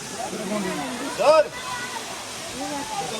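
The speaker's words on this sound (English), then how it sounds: "So this is BAGSUNAG Waterfall." Bhagsunag waterfall near Dharamshala rushes as a steady broadband hiss throughout, heard from nearby under several people talking, with one voice rising briefly above it.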